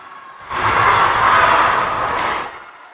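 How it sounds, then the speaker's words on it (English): Crowd at a youth hockey tournament semifinal against the Butler County Dawgs erupts into a sustained cheer lasting about two seconds, rising and fading as a broad roar in an indoor rink. "I don't know if you guys can hear the crowd"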